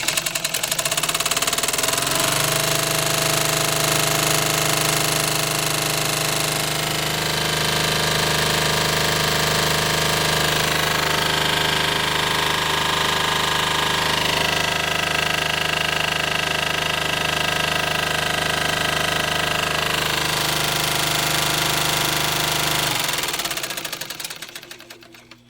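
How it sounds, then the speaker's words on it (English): A Rex 26-188 industrial walking foot sewing machine with a 5.2 amp motor throttles up to full power, giving a loud, continuous mechanical whir and rapid chatter for over twenty seconds before spinning down, with no voices. "Give this thing a little bit of juice so you can kind of see this sucker throttle up and get an idea of what full power might look like with this machine"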